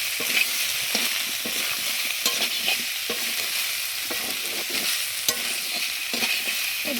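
Soybean chunks fry in a pan while a spoon stirs them, steady sizzling broken by repeated scraping and clacking strokes close by, with no one talking.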